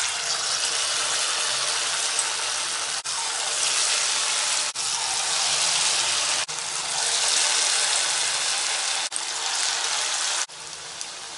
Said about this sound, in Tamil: இப்போ வந்து நம்ம இதை சூடான ஆயிலில் ஃப்ரை பண்ணி எடுத்துக்கலாம்.